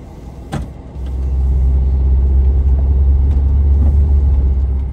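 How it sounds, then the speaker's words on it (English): A 1982 Volkswagen Westfalia van fitted with a swapped-in Subaru engine drives along, a steady, loud low rumble of engine and road noise building after a brief click and shift at the start and then holding constant. "So tonight I'm driving this van all the way down to Cooper Landing, which is about a 2-hour and 10-minute drive."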